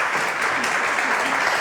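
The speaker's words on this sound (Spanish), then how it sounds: "María Isabel, un aplauso para ella." An audience applauds at an education talk, a brief, dense burst of clapping that stays loud and even throughout.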